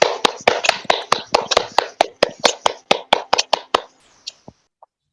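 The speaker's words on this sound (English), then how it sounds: "If everyone could please take a moment to unmute and show your appreciation via" Participants in an online course recognition ceremony unmute and clap, a run of sharp, closely spaced hand claps that are loud and near, then thin out and stop.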